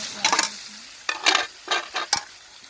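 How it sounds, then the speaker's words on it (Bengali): Meat with spices and tomato is stirred and fried in a pan over a wood-fired clay stove, with four or five rhythmic bursts of sizzling and scraping between quieter frying. "এখন ভালো করে মশলাটা মাংসটা একটু ভালো করে কষায় নিব।"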